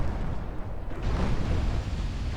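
Warship guns fire HE shells in the naval video game Ultimate Admiral Dreadnoughts, a dense, rumbling roar of artillery blasts merging into one sustained loud barrage with no talk.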